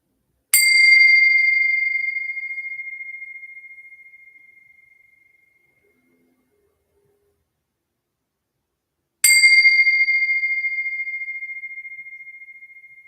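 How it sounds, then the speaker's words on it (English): Two bell strikes several seconds apart, each a bright metallic ding that rings out and slowly fades to silence. "Here's our 3 bells."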